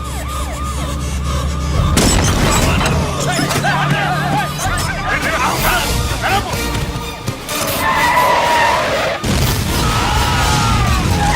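A bomb blast in a Telugu action film scene from Allari Pidugu bursts out with sharp, loud broadband booms amid crowd shouting, sirens and dense dramatic noise, with a second heavy hit near the end.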